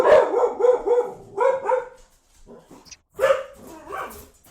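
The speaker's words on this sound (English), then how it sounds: "That's what happens when you have dogs." Several dogs barking close by in rapid overlapping bursts, a short pause, then another round of loud barks.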